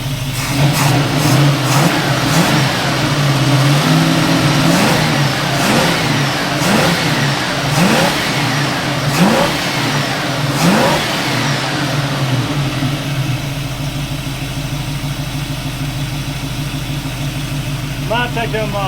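A Ford Mustang Fastback engine with trash in its carburetor runs loudly and revs repeatedly over a rough, uneven idle. The engine noise continues for the whole stretch, and people talk over it.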